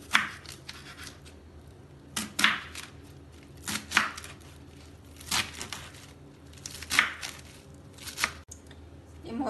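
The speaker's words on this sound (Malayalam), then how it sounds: "ഇനി കുറുകെ കുറച്ച് വലിയ സ്ക്വയർ പീസ് ആയിട്ട് കട്ട് ചെയ്യാം." Knife chopping cabbage into large square pieces for kimchi, with about six crisp, crunchy cuts spaced a second or two apart on a board, over quiet background rustling.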